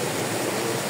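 River water rushing steadily at a rest stop on a Malarayat traverse day hike, a dense, continuous broadband roar that stays close and loud throughout with no talk.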